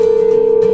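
A steady, loud single-pitch tone from a phone call waiting to be answered drones on without a break, with no other sound around it.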